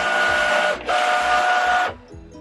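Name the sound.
Cricut cutting machine loading and scanning the mat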